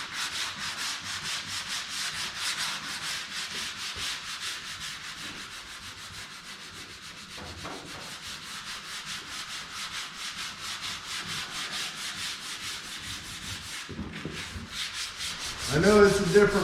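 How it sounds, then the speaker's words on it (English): Continuous hand sanding of red paint with 220-grit sandpaper, a steady close scratchy rubbing that varies slightly in pressure, with a brief pause and a few knocks near the end. "This stuff is not sanding very good, this red."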